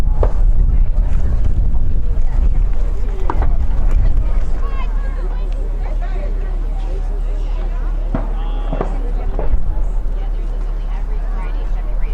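Wind blows steadily across an outdoor field during an ultimate frisbee match in a youth girls' state championship, a constant low rumble with gusty microphone buffeting, while occasional faint voices and brief knocks come through underneath.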